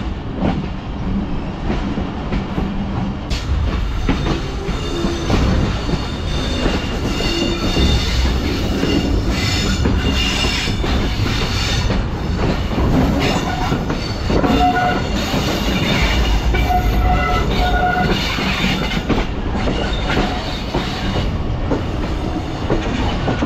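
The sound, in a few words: passing railcar train, 104 Down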